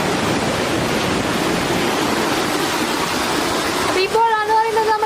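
Water pours steadily through a large shutter at Perumannu Chira dam in Kechery, a broad continuous rushing roar with no breaks. Near the end a faint tonal hum rises over the flow.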